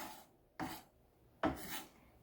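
Knife dicing garlic on a wooden cutting board while making stuffed shells: two short, crisp raspy chops spaced nearly a second apart, close and alone with no talking.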